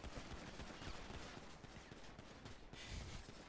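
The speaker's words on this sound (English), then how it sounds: "Fire the weapon." Rapid gunfire from a weapon in a video game, a dense, sustained volley of sharp cracks with no pauses and a heavier burst near the end.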